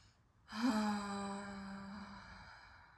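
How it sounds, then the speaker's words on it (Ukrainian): During breathing practice, a single long voiced exhale comes out as a sustained sighing tone, close and clear. It starts after a brief silence and slowly fades. "І робимо видих зі звуком."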